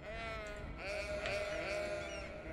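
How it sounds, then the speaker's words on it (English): Sheep in an animal pen in the city-building game Cities: Skylines bleat in a wavering, drawn-out cry, fairly close over a soft steady background. "We did, yeah, we do have some sheeps."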